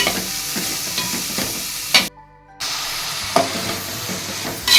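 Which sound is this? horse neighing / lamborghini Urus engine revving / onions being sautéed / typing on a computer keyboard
onions being sautéed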